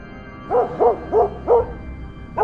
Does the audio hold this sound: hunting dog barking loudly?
yes